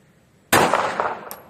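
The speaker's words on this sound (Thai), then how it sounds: "กลับมายิงด้วยมือซ้ายนะครับ" A single sharp handgun shot fired left-handed at an indoor shooting range, with a loud close crack and a short ringing decay, followed by a faint second metallic clink.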